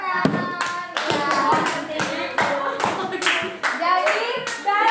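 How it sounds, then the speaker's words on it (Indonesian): A class applauds together, a burst of steady overlapping hand claps that keeps going throughout at a lively pace. "Iya, tepuk tangan."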